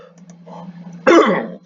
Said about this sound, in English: I've got a little bit of a cough right now